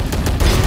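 Gunfire in the tactical shooter game Valorant: a short, loud burst of several rapid shots, close and punchy, within under a second.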